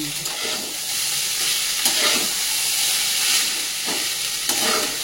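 Chowmein and fried potatoes being stir-fried together in a pan, with a constant bright sizzle and periodic scraping strokes of the spatula, close and fairly loud.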